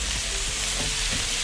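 Bean sprouts and chives stir-frying in a hot pan for Malaysian char kuay teow, giving a steady, close, loud sizzle with scraping stirs throughout.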